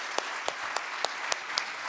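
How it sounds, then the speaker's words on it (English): Clapping breaks out for the Mayor at a State of the City address, a brief run of distinct hand claps over a steady crowd murmur, spaced at a quick, slightly uneven rhythm. "please join me in giving another big round of applause to our Mayor"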